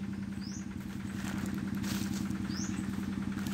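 A boat's double engine setup, one 20 HP and one 18 HP, runs with a steady rhythmic chugging, fairly faint and unbroken, with no voices.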